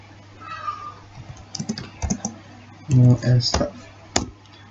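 Keys tapped on a computer keyboard while entering a "no sh" command for a router setup in Cisco Packet Tracer, a few scattered clicks alongside soft background speech.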